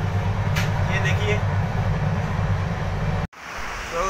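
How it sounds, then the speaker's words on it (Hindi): Ambience at Pathankot railway station: a constant heavy low rumble with faint high chirps and indistinct background voices, cutting off abruptly near the end. "पठानकोट रेलवे स्टेशन में बैठा हूँ मैं"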